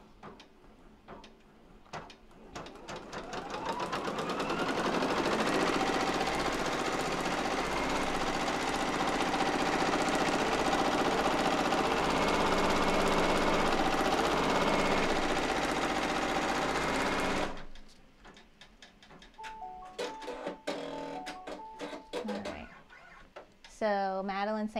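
An embroidery machine runs a placement stitch for an in-the-hoop tooth fairy project, giving a steady, fairly loud mechanical hum with rapid needle chatter for about twelve seconds, then stopping, followed by scattered clicks and handling noises.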